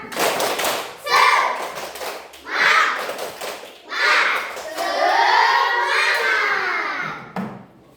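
A class of schoolchildren on their feet performs a rhythmic spirit clap a second time: close, loud bursts of clapping and stomping under excited chanting voices, building to a long drawn-out shout before it stops.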